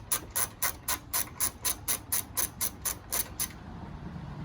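A socket ratchet working loose a stock 10mm fender bolt on a car, about fourteen quick even clicks in a steady rhythm, close and fairly quiet, ending in a faint hush.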